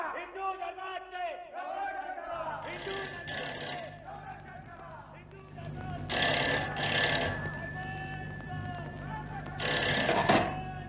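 A telephone rings in a dramatised Marathi stage-style serial scene, its bell sounding in a few bursts over a murmuring crowd and background voices before it is picked up.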